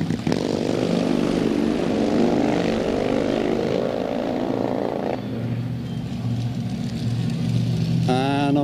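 Harley-Davidson drag racing motorcycle engine at a drag strip, a loud sustained roar that rises in pitch then drops to a lower rumble, with a brief high whine near the end.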